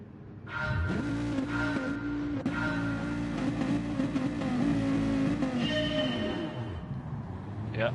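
Dodge Viper race car engine in Gran Turismo 7, a loud, steady roar with rising and falling revs as the field sets off at a race start, continuous and close throughout.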